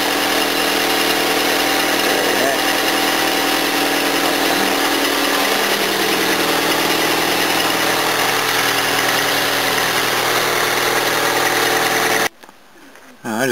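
A car engine idles steadily right after a new ECU is fitted, a loud constant rumble with a droning hum that runs unbroken before cutting out briefly near the end.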